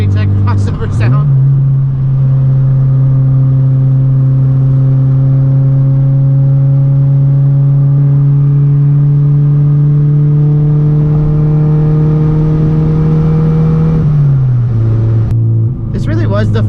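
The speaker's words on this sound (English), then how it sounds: "The VTEC crossover in this K20 sounds so good" A Honda Civic Si with a K20 engine holds a loud, steady in-car engine drone, then the pitch climbs as it revs through the VTEC crossover before easing back down, with talking at the start and end.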